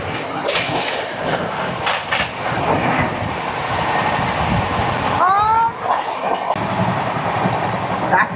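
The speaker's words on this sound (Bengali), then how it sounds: "চলে আসছে ট্রেন নাম্বার 12663 হাওড়া থেকে তিরুচিরাপল্লী সুপার ফাস্ট এক্সপ্রেস" Train 12663, the Howrah–Tiruchirappalli Superfast Express, arriving: a steady rumbling roar of rolling stock with rhythmic clatter, a brief squealing wheel screech midway and a short high horn-like tone near the end.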